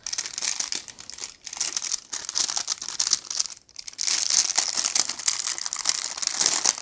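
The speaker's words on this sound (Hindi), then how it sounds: "तो इस प्रकार से आपको ये साबुन इस पाउच के अंदर डाल देना है।" Neem soap bars are slid into plastic pouches, giving close, crisp crinkling and rustling of plastic in bursts with brief pauses between handlings.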